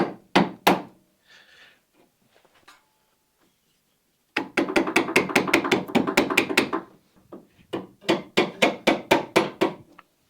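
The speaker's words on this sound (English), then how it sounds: "me hitting my chisels with a claw hammer" Sharp metallic taps of a claw hammer striking a chisel while shaping boat inwales, coming in quick rhythmic bursts of blows separated by brief pauses, close and fairly faint.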